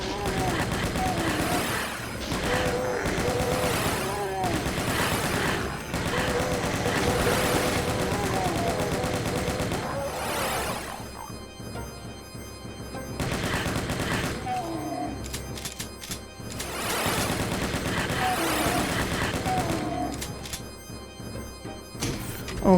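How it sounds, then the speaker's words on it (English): Dense, continuous gunfire and explosive booms fill Doom II: Memento Mori, map The Escape, with rapid shots layered through game music, easing briefly before heavy firing resumes. "Now, when you start firing, more enemies start to teleport here"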